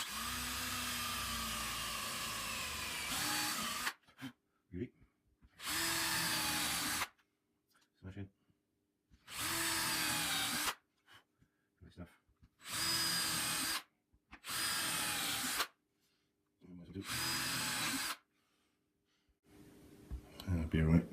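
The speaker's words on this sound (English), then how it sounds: "The maple would split if I put these screws straight into it. So we're just going to pre-drill them again." A power drill pre-drills screw holes in a maple guitar body for a custom Telecaster build, whining in about seven short bursts of a second or two each with quiet gaps between them.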